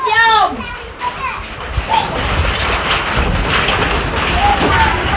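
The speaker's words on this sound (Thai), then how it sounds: "เจ้านี่เสียงฝน" Steady rain hissing down, likely at an outdoor village gathering, a broad wash of noise under children's shrieks and nearby talk.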